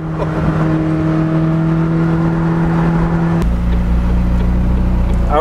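Exhaust of a McLaren 600LT Spider on the move, a loud droning hum that holds steady, then drops into a deeper, heavier rumble partway through, heard from inside the car.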